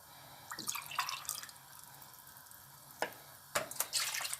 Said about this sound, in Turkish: Şimdi yoğurt suyunu koyuyoruz.